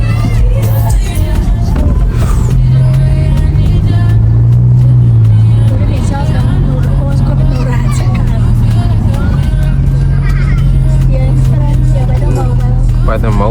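A Volkswagen GTI drives past at a matric farewell, its low engine drone running steadily beneath loud crowd chatter and nearby voices.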